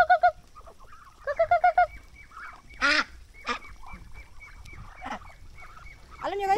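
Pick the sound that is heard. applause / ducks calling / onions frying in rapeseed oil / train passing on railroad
ducks calling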